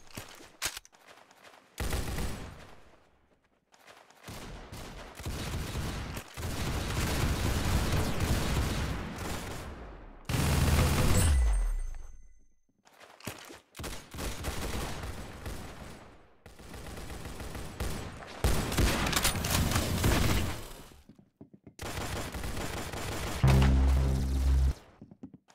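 Gunfire in the shooting game Arsenal comes in long loud automatic bursts separated by brief silences, with heavier booms in places and no voices.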